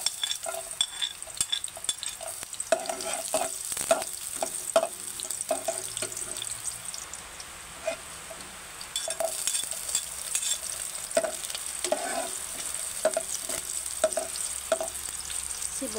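Onion and garlic sauté in a hot pan, a steady close sizzle with frequent clicks and scrapes of a stirring utensil against the pan throughout, with no talking.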